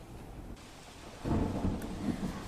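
Heavy rain pours steadily on waterlogged streets in Palanpur, Banaskantha, with a low rumbling roar that swells partway through, like distant thunder.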